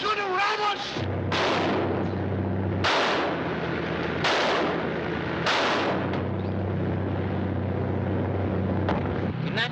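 Gunfire in a 1939 adventure film scene on the water: four heavy booming shots spaced a second or so apart over a low, constant boat-engine rumble, loud and reverberant.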